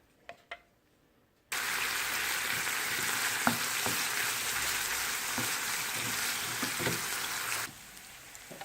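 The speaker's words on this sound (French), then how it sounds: "je passe à une cuisson à environ 4 à 5 minutes, tout en mélangeant de temps en temps" After a few quiet knocks, a beef steak sets off a steady, dense sizzle in a hot frying pan that runs for several seconds, with occasional stirring clicks, before the sound suddenly drops away.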